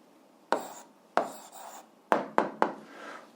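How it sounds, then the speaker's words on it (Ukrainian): Handwritten strokes on paper during an algebra exercise, five short scratchy bursts of pen or chalk, near and fairly quiet, with no talking. "пишемо відповідь"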